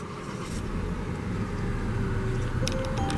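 A 2020 Volvo XC40 T4 engine turns over via push-button start and settles into a steady low idle, with a faint whine and brief clicks near the end.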